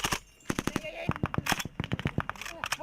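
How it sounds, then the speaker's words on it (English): Bursts of automatic fire from an M249 light machine gun during a staged mock battle, rapid rattling volleys in quick rhythmic strings, loud and somewhat distant, with faint voices mixed in. "That looks like a 249."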